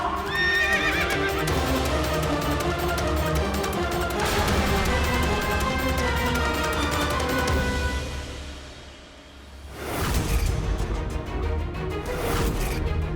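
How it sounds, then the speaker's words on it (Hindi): A horse in a Hindu devotional drama gallops with clip-clop hoofbeats and loud whinnies over a dense music score, dipping briefly near the end before rising again. "ये अश्व तो इंद्र से दूर जा रहा है"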